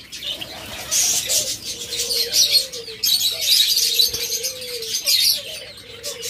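Caged lovebirds and Java sparrows chirp in a busy, overlapping chorus of bright calls and short piping notes, with occasional wing flutters, close and fairly loud, no talking.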